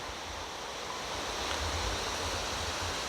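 The Gapyeong valley stream, swollen and deepened by heavy rain, rushes in a steady, dense roar of churning water. The sound is continuous and fairly close, with no voices over it.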